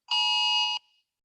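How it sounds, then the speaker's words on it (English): An Amber Alert emergency tone from a phone: one loud, steady, shrill electronic tone lasting under a second, then a short faint tail, with no talking. "we got an Amber Alert"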